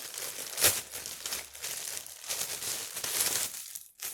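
A gift-wrapped parcel being opened, with bursts of crinkling and rustling paper, some louder tearing moments, close and handled in short irregular spurts.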